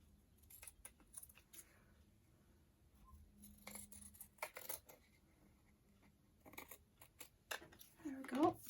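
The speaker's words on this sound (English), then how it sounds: "Let me cut this." Scissors snip through material for a collaged paper tag in a craft session, several quiet, close cuts and rustles with short pauses between them.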